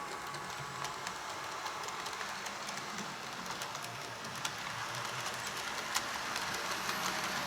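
A model London Underground S-Stock train rumbles steadily along a track with light clicking and rattling, a constant mechanical whir throughout.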